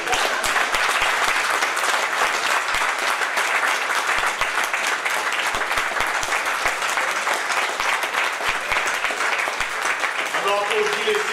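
A church congregation applauds steadily and loudly throughout, dense clapping filling the space without a break, with a voice briefly audible near the end.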